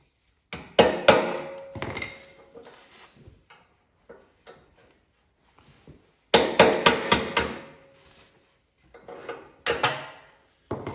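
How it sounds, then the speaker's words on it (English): Bursts of sharp metallic hammer strikes on a metal punch driving out a snowblower auger shear pin, several quick blows in clusters with pauses between, close and loud, with some clinking in between. "I'm going to use a metal punch when I find it to hit that shear pin out."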